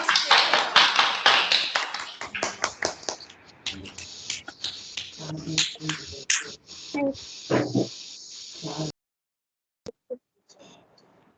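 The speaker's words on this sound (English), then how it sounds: "Once again, give a clap." Audience clapping at a school Independence Day celebration, loud and rapid at first, then thinning into scattered claps before it stops, with a few faint taps afterward.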